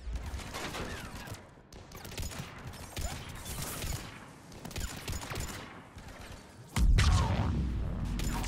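Rifle fire in the video game Mass Effect 3 comes as dense, rapid bursts of shots over about eight seconds, ending in a heavier, louder boom and rumble.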